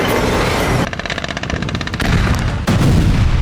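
Gunfire from soldiers shooting at Hamas fighters in Gaza: loud, close bursts of rapid automatic shots with a rattling rhythm, broken by short pauses and heavy booming blasts.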